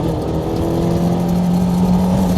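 Car engine in a racing video game played on a wheel with a shifter, a steady loud low drone lugging at low revs, unbroken for the whole moment with no voice over it.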